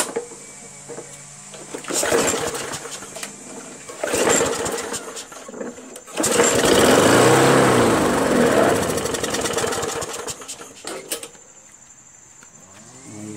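Craftsman push lawn mower with a Briggs & Stratton Quantum 4.75 engine under carburetor repair sputtering and running in loud uneven surges, revving up strongly midway before dropping back.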